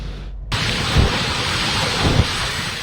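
Steady heavy rain pours down in Baguio City on a foggy day along Marcos Highway, a dense broadband hiss starting abruptly and continuing loud and close, with low rumbling swells that may be distant thunder or wind gusts.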